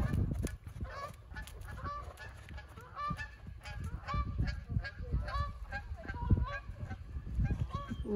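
A flock of geese honks repeatedly overhead during a horse ride, their calls overlapping in a steady, noisy chorus over low rumbling background sound.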